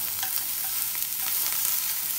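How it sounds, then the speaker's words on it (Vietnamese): Pork fries in hot oil for Vietnamese bánh xèo, giving a bright, constant sizzle with crackling pops and stirring, close and alone. "bỏ thịt vô nha mọi người chiên vào thịt nó nó ngon luôn đi chiên vào thịt giòn vàng đẹp luôn đó"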